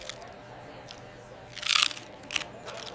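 Bamboo worm crisps being bitten and chewed, a mild crunch near the start and a loud burst of crunching in the middle, then a few softer bites, close to the mic with no talk.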